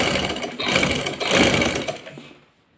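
A sewing machine stitches kameez fabric in a few whirring runs of motor hum, starting and stopping, then falling silent at the end.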